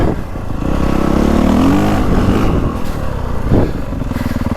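A 2025 Honda CRF450R Works Edition dirt bike accelerates hard outdoors, its loud, close four-stroke engine rising steadily in pitch before a brief dip and a return to a strong throttle roar.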